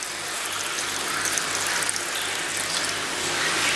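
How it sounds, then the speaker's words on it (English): Hydrogen peroxide gushes steadily from a bottle into a small tub beside a koi pond, a continuous close pouring splash that holds throughout with a faint mechanical ticking underneath. "I'm just fill this little tub up with a litre."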